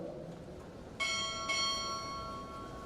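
A ship's bell struck twice at a Navy chief petty officer pinning ceremony, two clear ringing strikes half a second apart with a long shimmering decay over a quiet hall.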